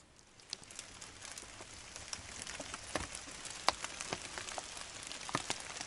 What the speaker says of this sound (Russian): Дождик кто-то и не думает даже прекращаться.